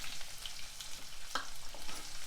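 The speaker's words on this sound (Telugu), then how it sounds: "నూనె వేడెక్కినాక ఒక అర స్పూన్ ఆవాలు అర స్పూన్ జీలకర్ర వేసుకోవాలి మీడియం సైజు ఉల్లిపాయ సన్నగా ముక్కలు చేసుకొని వేసుకోవాలి" Mustard seeds, cumin and thinly sliced onion fry in hot oil for puffed-rice upma, giving a continuous close sizzle with faint crackles and a few stirring scrapes, with no voices.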